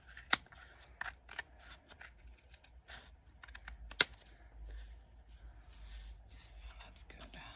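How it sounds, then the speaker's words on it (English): Scissors trim the uneven edges of a paper writing board, giving a few sharp, close snips in a quiet room with soft rustling between cuts. "I'm going to take my scissors and just trim up these edges a little bit."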